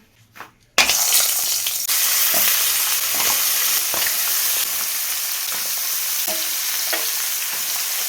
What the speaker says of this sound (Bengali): কড়াই গরম হয়ে গেছে, এবার কাঁকড়াগুলো দিয়ে দিচ্ছি।